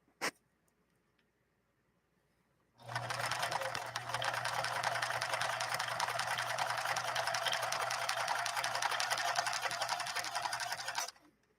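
A Japanese Kenmore sewing machine runs a straight stretch stitch in one steady, loud, rapid mechanical whir with a low motor hum beneath, lasting about eight seconds after a single click, with no talking.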